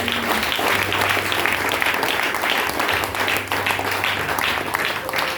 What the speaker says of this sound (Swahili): Hata wewe unastahili kupigiwa makofi.